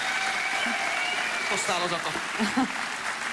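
Studio audience applause on a Slovak televised ballroom dance competition, a steady dense clatter of clapping throughout with a voice talking briefly over it.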